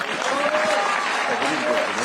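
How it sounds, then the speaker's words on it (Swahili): An audience at a forum with people living with disabilities claps in a sustained, even round of applause that holds at the same level throughout, fairly close and full. "Makofi."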